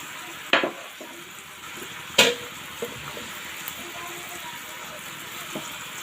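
Pieces of fried rohu fish drop into a sizzling spice mixture in a pan, with two sharp splashes of loud sizzle over a steady frying hiss and a few light scrapes.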